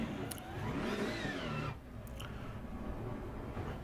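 BMW M6 GT3 race car at Paul Ricard in Assetto Corsa Competizione, its engine revving up in a rising whine before a sudden drop as it shifts, then steady driving hum, fairly quiet.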